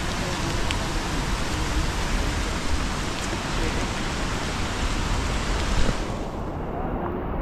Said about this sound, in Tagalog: Mga ganyan ulan, parang walang planong dito yan.